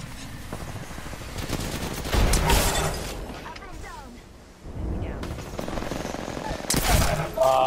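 Rapid automatic gunfire in the shooter game Apex Legends comes in loud, dense bursts broken by short pauses, with a voice talking briefly between them.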